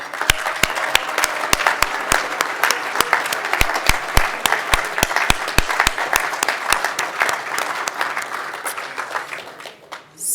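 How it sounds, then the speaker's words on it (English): Guests at a JCRC gala dinner applaud standing past presidents: a long, full round of crowd clapping with sharp, regular nearby claps cutting through, fading out toward the end. "Will you please stand so that we can give you a well-deserved round of applause?"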